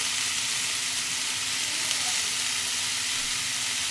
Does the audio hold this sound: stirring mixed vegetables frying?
yes